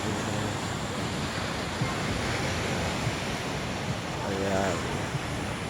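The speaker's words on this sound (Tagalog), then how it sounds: "Yung mga alon dito o" Ocean waves at a beach campsite in Casiguran, Aurora, a continuous broad roar of surf mixed with wind buffeting the microphone, with a brief voice heard faintly near the end.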